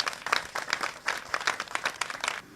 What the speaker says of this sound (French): On applaudit encore pour vous